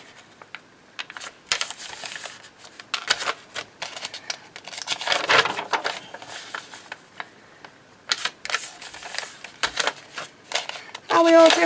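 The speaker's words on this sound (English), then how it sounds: "I'm going to fold my pages again." Paper pages for a ring-bound junk journal are folded and handled up close, with crisp rustles, creases and scattered taps coming in uneven bursts, and voices in the room alongside.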